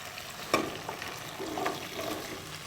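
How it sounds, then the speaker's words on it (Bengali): Vegetables go into a hot pan for a fish curry and fry with a steady sizzle, broken by scraping stirs and a sharp clunk near the start, close and fairly loud with no talk. "এবার সবজিগুলো আমি দিয়ে দিই।"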